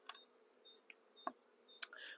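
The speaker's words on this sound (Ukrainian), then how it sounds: "я залишив вулик відкритий, щоб бджола собі виходила, вилітала" Faint buzzing of honeybees darting out of an open hive in quiet surroundings, with a few soft clicks and brief wing hums coming and going.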